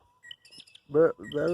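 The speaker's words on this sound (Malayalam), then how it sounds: "ഇവിടുത്തെ കാക്കകൾ കരയുന്ന സൗണ്ട് കേട്ടാൽ ഒരുമാതിരിയാണ്" Crows caw outside a house in Australia: a few scattered faint chirps, then two loud, drawn-out, harsh caws close by.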